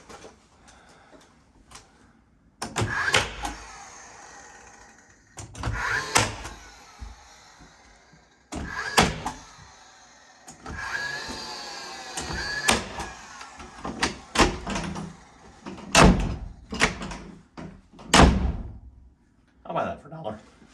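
A door is closed repeatedly while being reinstalled with new jambs and aligned locks, several sharp knocks and thumps scattered among scraping and handling noises, with someone talking between them.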